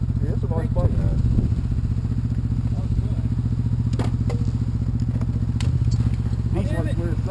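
A sport motorcycle engine drones steadily and loudly throughout, with occasional clicks and clatter over the constant hum, as if recorded from the bike on a fall ride.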